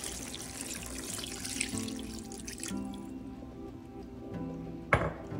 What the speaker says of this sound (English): I chose to add in another cup and one third of the water.